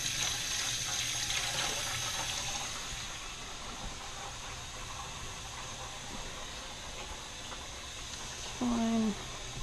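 Tap water runs into a kitchen sink while a utensil is rinsed under it, a faint continuous splashing stream that eases slightly partway through.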